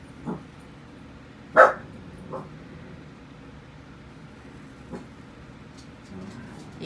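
Dogs indoors bark at a delivery truck parked out front: one sharp, loud bark stands out, with a few fainter yips and barks scattered before and after over a quiet room background.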